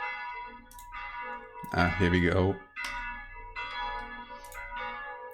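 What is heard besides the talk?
church bells ringing in the morning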